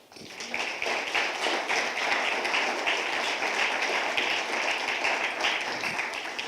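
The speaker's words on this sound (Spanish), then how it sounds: "démosle un aplauso al Señor" A church congregation gives a sustained round of applause during a sermon, a thick, even roar of many hands clapping that stays loud and unbroken from start to finish.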